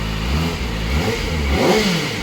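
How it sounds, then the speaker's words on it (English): The engine of a Kawasaki ZX-4RR motorcycle revs at a dealership unveiling in Worthing, UK. Loud, close revs rise and fall repeatedly with a deep roar, and no one speaks over it. "you get a really deep roar from the engine"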